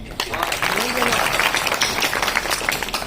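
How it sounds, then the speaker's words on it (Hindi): Audience at a kavi sammelan poetry gathering breaking into applause, a burst of clapping from the crowd mixed with a speaking voice heard over it. "आप एक बार अपने लिए तालियां बजा दें।"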